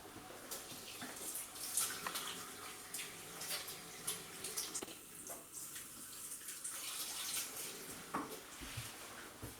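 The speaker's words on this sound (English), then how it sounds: "I'm going to quickly wash my hands with some soap." Hands are washed with soap under a running kitchen tap while cooking, a steady hiss of flowing water with soft irregular splashes and rubbing, close and fairly quiet.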